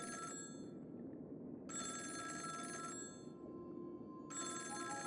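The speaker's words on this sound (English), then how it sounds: "pick up the phone" A telephone rings in the video game Honkai Star Rail, with bright, clear trilling rings separated by short pauses over a quiet, low background.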